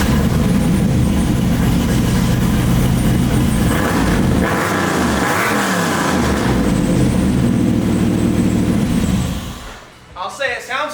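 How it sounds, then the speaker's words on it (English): Car engine idling through a 4-inch exhaust, a steady deep rumble with a mild rise in revs midway, loud and close, fading near the end as a voice starts talking. "let's get a before sound on this stupid 4-inch exhaust"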